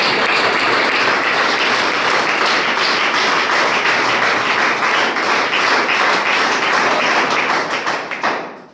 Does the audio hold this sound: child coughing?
no